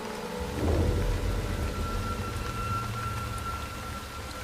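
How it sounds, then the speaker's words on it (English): A sudden thunderstorm in the Congo brings a deep roll of thunder that swells early and fades. Steady rain hisses throughout, and no one speaks. "The weather just so unpredictable. This storm just came from nowhere."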